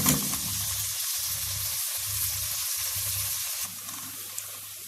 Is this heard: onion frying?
yes